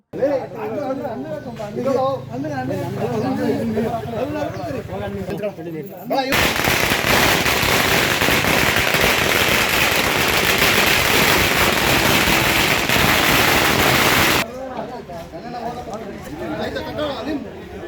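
Firecrackers burst at a village celebration for a newly elected gram panchayat president in Arebommanahalli, Nelamangala, making a dense, loud crackling barrage of about eight seconds. People chatter before and after it.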